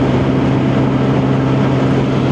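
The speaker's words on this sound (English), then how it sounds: "That is absolutely full bore." Steady, loud roar of a rebuilt Lexmoto Diablo motorcycle revved flat out on a road run, a constant buzzing drone with heavy low tones and wind noise, no letup.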